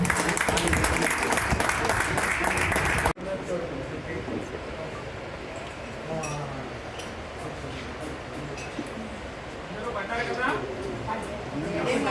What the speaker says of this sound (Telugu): సో గట్టిగా చప్పట్లు.